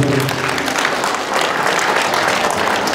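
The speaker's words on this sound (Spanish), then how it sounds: "Seguimos aplaudiendo, seguimos aplaudiendo. Fuerte los aplausos." Sustained loud clapping from a wedding congregation fills the space continuously and evenly, with no break and no distinct voices above it.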